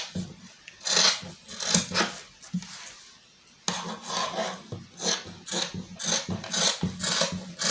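Scissors cut through fabric for a butterfly sleeve, making close, rhythmic rasping snips in steady strokes with one brief pause partway through.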